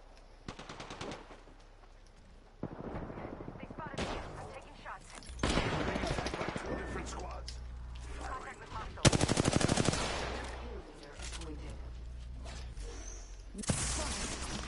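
Rapid bursts of automatic gunfire and single shots in the battle royale game Apex Legends, loud and close, coming in clusters over constant game ambience with brief spoken callouts.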